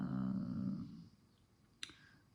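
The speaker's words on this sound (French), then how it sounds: "Si vous entendez un bruit de fond, c'est le chien qui ronfle." A dog snores with a soft, low rasp that fades away into near silence, followed by one brief faint click.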